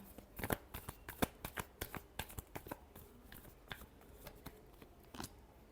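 Tarot cards being shuffled close by, a quick series of crisp riffling snaps and slaps that come in uneven bursts, loud at first and then lighter, with no one talking.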